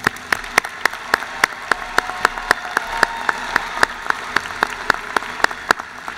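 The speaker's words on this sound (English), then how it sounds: "Let's applaud the graduate students." A crowd at a university commencement ceremony applauds graduate students with steady, dense clapping that holds at an even level throughout, with sharp individual claps standing out near the microphone.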